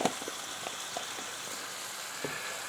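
About a tablespoon of minced garlic sizzles in a hot pan beside a ribeye steak, a steady soft crackle with a few brief louder pops, no talking.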